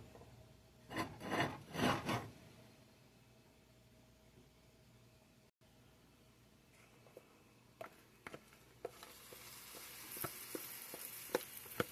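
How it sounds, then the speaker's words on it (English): A hot skillet hisses and sizzles as food goes into it, first with loud rasping scrapes and then settling into a faint, crackling sizzle dotted with small pops. "Here's that sizzling sound."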